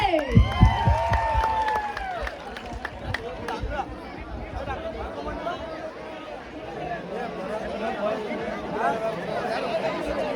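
Audience applause and cheering at a folk song gathering, loud clapping and crowd chatter near the start that settles into ongoing murmur and scattered claps under voices.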